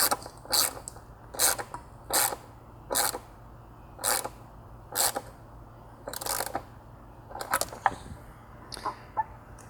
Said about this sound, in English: We prefer ratchets because they're much easier and quicker to install.